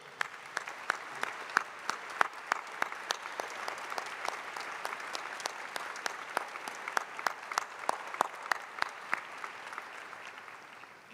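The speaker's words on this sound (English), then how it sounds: "Please join me as we applaud the support and dedication they provided" Audience applause at a university commencement ceremony, sustained clapping with crisp individual claps popping out of a steady, moderately distant wash across the whole stretch.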